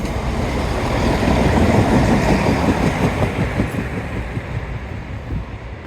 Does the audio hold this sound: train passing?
yes